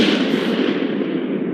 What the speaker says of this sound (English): This is video footage of U.S. Marines firing off howitzers last year.